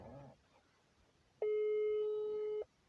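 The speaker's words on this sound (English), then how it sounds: "I'm calling him." Telephone tone heard while calling someone: one long, steady electronic tone of about a second, alone after a brief stretch of talk and quiet line hiss.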